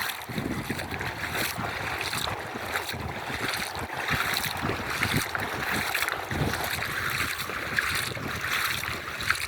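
A bangka, a small Filipino boat, moves across open water with a constant engine drone, wind buffeting the microphone and water washing past.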